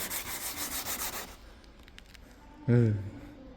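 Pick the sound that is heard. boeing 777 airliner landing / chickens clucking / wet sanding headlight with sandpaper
wet sanding headlight with sandpaper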